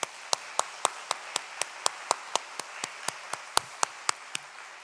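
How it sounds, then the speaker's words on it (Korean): Congregation at a church service clapping together in a steady, even rhythm, about three claps per second, each clap a crisp distinct hit, moderately loud with no talk over it. "우리 다음은 다시 한번 우리 박수해 주시기 바랍니다."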